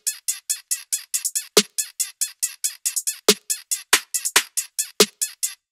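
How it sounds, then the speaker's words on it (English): Drum section of a song being edited in a music production program, with processing such as compression, auto-panning and EQ and no kicks, 808s or basslines, plays as a steady, fast pattern of crisp bright hits, punctuated by a few heavier accented strikes. "So altogether, the drums sound like this."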